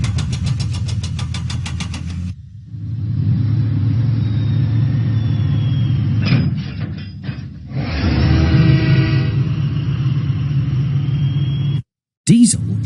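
Diesel engine train from a Thomas & Friends game, a loud close rumbling engine running and moving in steady stretches, broken by short gaps and a few clanks, with a voice talking at times.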